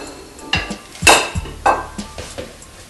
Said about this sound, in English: Now we're going to add the eggs.